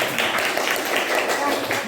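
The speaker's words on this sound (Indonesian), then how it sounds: "Beri tepuk tangannya buat kelompok ini." A classroom group in an Indonesian teaching-practice session gets dense, steady clapping from the audience, running for two seconds under some overlapping voice activity.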